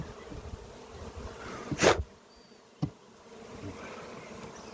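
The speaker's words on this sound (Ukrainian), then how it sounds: "цих теж бджілок переселили в новий ройок." A swarm of bees being moved into a new hive buzzes steadily nearby, with a couple of sharp knocks breaking through the continuous hum.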